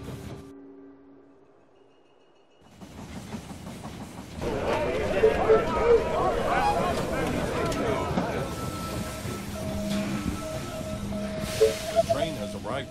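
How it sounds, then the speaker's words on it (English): Train pulling into a station in the strategy game They Are Billions, a rising rumble and steam hiss that builds and holds with clanking rail noise, loud and continuous; a game voice line may be present. "The train has arrived at the station."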